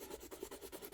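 Soft, rhythmic scratching of a watercolour pencil stroking back and forth across paper while colouring in, close and quiet, with no voices.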